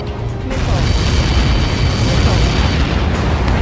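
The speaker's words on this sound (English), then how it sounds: "How many got caught in that explosion?" A huge explosion from a massive projectile impact in the Ace Combat 7 flight combat game, a dense, sustained roar of deep rumbling blast noise that swells and holds loud for several seconds with no break.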